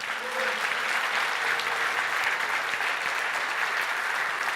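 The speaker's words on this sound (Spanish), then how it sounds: "Dale un aplauso al Señor." Church congregation applauding during a revival service, a steady, even wash of many hands clapping at moderate loudness throughout, with faint voices underneath.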